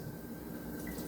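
Water trickles into a tomato paste can to loosen the paste for a creamy jambalaya: a quiet, faint, close pour with light dripping and no talking.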